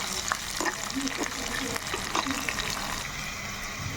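Chopped onions and green chillies sizzle steadily in hot oil in a pan, a dense, continuous frying crackle with occasional stirring taps and no clear talk.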